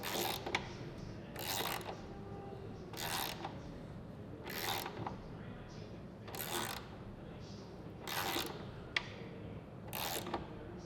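A 10mm hex key turns the engine mount adjuster bolt on a 2016 Kawasaki ZX-6R during rebuild, giving seven evenly spaced, close mechanical rasping clicks roughly every second and a half over a quiet background.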